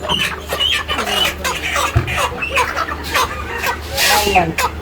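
Sonali chickens at a market cluck and squawk in a busy, overlapping chorus close by, with people talking throughout.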